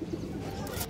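Pigeons coo low and steadily through a brief moment, close by, forming a soft continuous murmur with no speech.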